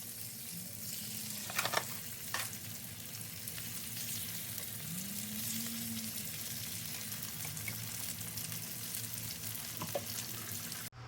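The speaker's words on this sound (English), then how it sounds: "I'm going to go ahead and put in the remainder of the tenders" Turkey tenders sizzle steadily in a pan, a continuous broadband frying hiss with a few sharp clacks near the start as pieces go in, no talking.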